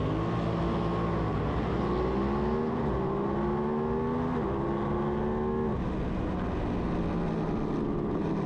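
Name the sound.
lightweight supersport race motorcycles accelerating away from the start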